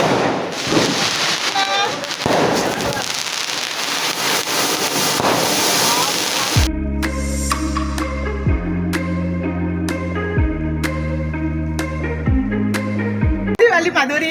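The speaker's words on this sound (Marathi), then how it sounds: "आता मी मटका अनार लावणार आहे, बघू शकता" A matka anar fountain firework burns during Diwali, giving a dense, steady hissing crackle for about six seconds before music takes over with voices in the background.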